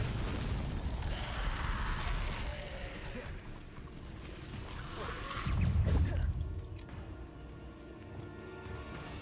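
Bombarda spell blast in Hogwarts Legacy, a booming low burst near the middle rising over a busy game soundscape of crackles and effects, with a voice talking around it.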